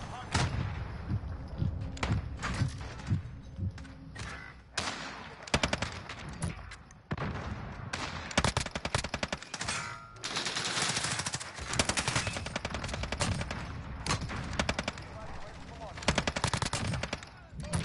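Rapid bursts of video game gunfire, automatic weapons rattling in dense volleys with short gaps, loud and close throughout, mixed with occasional single heavier shots.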